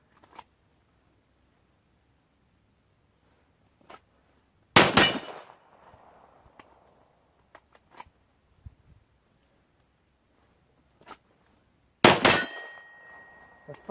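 An Arsenal Strike One pistol fires at a steel target: two loud, sharp shots spaced several seconds apart, each followed by a brief metallic ring, with faint clicks and clinks in the quiet between them.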